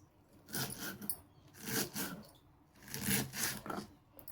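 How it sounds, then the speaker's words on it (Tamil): Cabbage being finely chopped with a knife produces bursts of crisp, rapid cutting and rasping strokes, close and fairly quiet, separated by short pauses. "பாருங்கள் நான் எப்படி கட் பண்ணுறேன்னு இந்த மாதிரி கட் பண்ணி பாருங்கள்"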